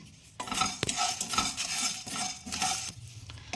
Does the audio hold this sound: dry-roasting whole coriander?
yes